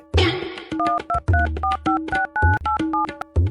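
A phone keypad being pressed to dial a number, a quick irregular run of about a dozen short dual-tone beeps with brief gaps, close and clear, after a short noisy rustle at the start.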